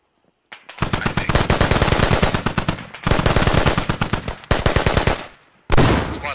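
Long automatic bursts of rifle fire rip through a close-quarters fight in the game Squad, three loud sustained volleys broken by short pauses, the last burst cut off abruptly.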